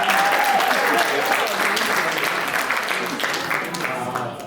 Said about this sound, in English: Let's give him our applause as he stands up